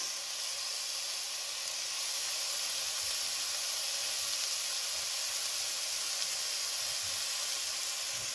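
Sliced mushrooms with garlic and fresh thyme sizzling in butter in a hot pan, a steady close hiss that runs evenly without pause.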